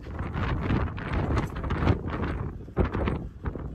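Strong wind buffets the microphone continuously, a loud rumbling roar with gusty surges and no voices.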